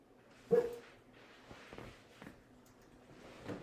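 A small dog gives one sharp bark close by, followed by softer yips and whimpers indoors, with no talking over it.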